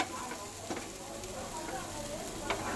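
Idli upma is sautéed in a pan, giving a soft, steady sizzle broken by a few sharper scrapes and taps of stirring at moderate loudness.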